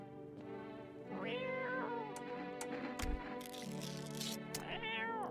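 A cat in the horror game No I'm not a Human lets out several drawn-out, wavering meows in succession, close and clear, with a faint thump midway and no talking over it.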